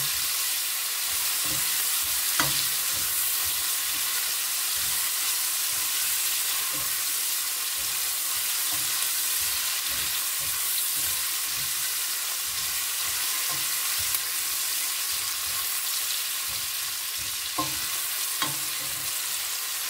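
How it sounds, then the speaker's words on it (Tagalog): Tomato, onion and garlic sauté steadily in a pan for squid adobo, a continuous close sizzle with occasional spoon scrapes and clicks of stirring, and no talking. "Igisa natin muna ng maigi ang kamatis, sibuyas at bawang."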